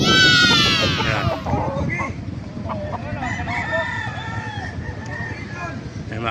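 Roosters at a chicken market in Bocaue, Bulacan crow loudly and close at the start, then fade into scattered clucking and busy market chatter as people talk throughout.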